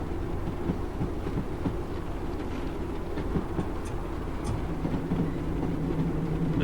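An AP Class 156 diesel train in Train Sim 2021 runs between Lowestoft and Norwich, a continuous low rumbling engine drone with faint rhythmic rail clatter and a few soft clicks, steady and alone.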